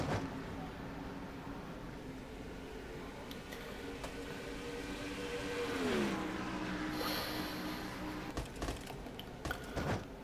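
Stock car engines drone steadily in a NASCAR-style racing video game, with a clear pitch sweep downward as a car passes, all under continuous commentary speech.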